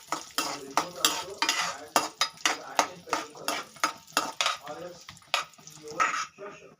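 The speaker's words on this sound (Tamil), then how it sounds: "முந்திரி போட்டு இதுவும் நல்லா ஃப்ரை பண்ணிக்கணும்" Cashews frying in a pan for dry fruit laddus, stirred with a spoon in a quick, regular run of sharp scrapes and clinks over a soft sizzle, close and fairly loud.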